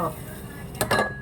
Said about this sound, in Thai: เดี๋ยวล้างจานเสร็จแล้วก็